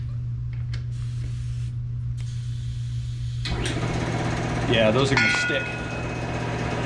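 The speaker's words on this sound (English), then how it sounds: "Sorry for the compressor noise." A steady air compressor hum runs throughout, with hissing bursts of air and a person speaking briefly over the machine noise.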